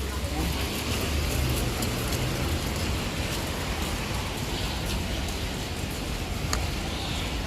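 Steady, dense broadband hiss of heavy rain on a street, loud and continuous throughout, with a low rumble like passing traffic underneath.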